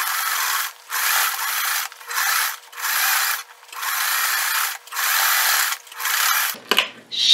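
A sewing machine stitches a tote bag in short repeated bursts, about seven runs of fast, even mechanical whirring broken by brief pauses, close and loud, ending with a clack and rustle.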